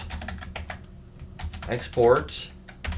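Typing on a computer keyboard while entering network router configuration commands, a quick run of close, crisp key clicks with someone talking over parts of it.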